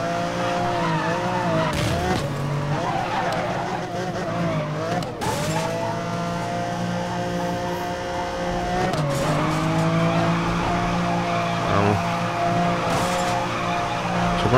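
Sustained engine roar from a Lamborghini and a Bugatti drifting in Need for Speed Most Wanted 2012, with long, loud tire squeals and wavering engine pitch through the whole run.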